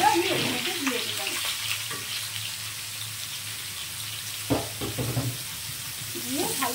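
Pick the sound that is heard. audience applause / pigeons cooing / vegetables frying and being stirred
vegetables frying and being stirred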